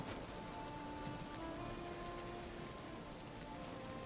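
Rain falling in the video game Valheim, a steady, faint, even hiss of rainfall with soft tonal game sounds underneath.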